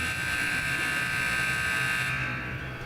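A loud, steady electronic buzzer at a junior varsity hockey game between the Capitals JV and Blues JV sounds as one continuous tone for nearly three seconds, its brighter upper edge cutting off just before the end.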